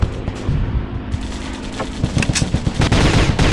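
Rapid automatic gunfire from the mobile shooter Commando Strike, a dense rattling stream of close, loud shots with a few heavier booms, alone with no talk.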